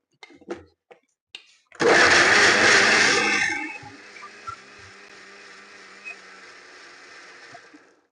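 A mixer grinder jar whirs up loud and abruptly as it starts blending ingredients, its dense motor roar lasting about two seconds before settling into a softer steady hum, preceded by a few small clicks and knocks.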